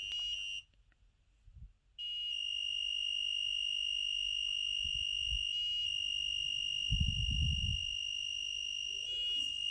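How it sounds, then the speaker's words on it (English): Active buzzer on an Elegoo Uno R3 Arduino sounding steady high-pitched tones, broken by a short gap early on, with faint low thumps and handling noise underneath. "I can't hear the three distinct buzzers"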